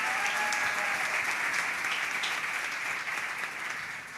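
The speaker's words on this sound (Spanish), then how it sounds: "Un aplauso para ella." Sustained, loud applause from a church congregation at an anniversary celebration, a thick steady roar of clapping hands that tapers slightly toward the end.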